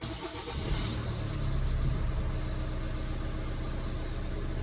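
A Hyundai ix35 CRDi diesel engine catches and settles into a steady idle just after starting, heard close and moderately loud, a constant low rumble with no talk.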